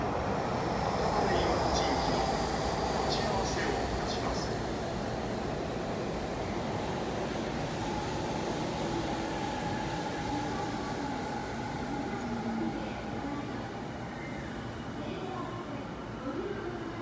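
A steady, loud rumbling roar of a Tokyu line train pulling into Musashi-Kosugi station, sustained throughout with faint squeals and a Japanese public announcement voice.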